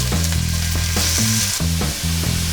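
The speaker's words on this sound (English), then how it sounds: "First things first, oil in the pan. Onions in the oil." Onions sizzle hard in hot oil in a pan, a loud, close, continuous crackle broken by the rhythmic scrape of stirring and a faint low hum beneath.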